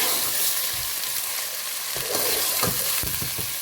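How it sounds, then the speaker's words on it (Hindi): Chicken sizzles steadily as it browns in oil for a chicken and potato korma, with a few sharp scraping and stirring knocks near the end, close up and without talk. "तब तक हमने इसको इस ऑयल में भूनना है।"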